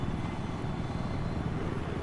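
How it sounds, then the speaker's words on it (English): Attack helicopter in a competitive 8v8 video game match, a steady, low, throbbing rotor drone at moderate volume, continuous and unchanging for the whole stretch, with no voices. "he does get taken out there with Patsy with Ace 21 with the assistance of the attack helicopter."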